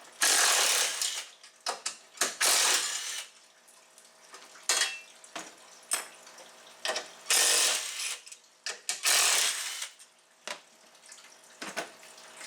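A ratchet clicks in quick bursts while loosening fan shroud mounts in a car engine bay, several runs of close, sharp ratcheting separated by brief pauses, with no talking.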